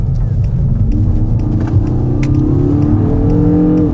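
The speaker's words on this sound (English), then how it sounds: "Sport does make a nice noise and hangs onto those gears very nicely though." The engine of a 2022 Kia Cerato GT in Sport mode revs loudly from inside the cabin, a rising throaty rumble that climbs through the gears. A voice speaks faintly underneath.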